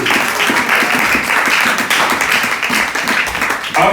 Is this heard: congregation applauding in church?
yes